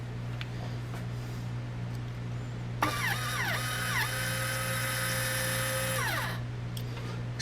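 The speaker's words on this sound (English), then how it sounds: "So we got the motor." An 18-volt electric motor on a stand running for about three seconds, a close, loud whirring whine that spins up, holds steady with a mechanical ratcheting edge, then winds down, with no talking.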